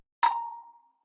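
A single bright plucked synth note with a sharp attack, ringing briefly and decaying dry, followed by a faint start of another note.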